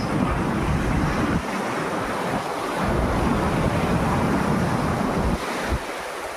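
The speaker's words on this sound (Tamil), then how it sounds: "சூப்பரான ஸ்பாட்டு பாண்டிச்சேரி மெரினா பீச்" Ocean waves roll onto Pondicherry Marina Beach in continuous loud surges, with breaking water washing in and out and gusts of wind buffeting the microphone, and no talking.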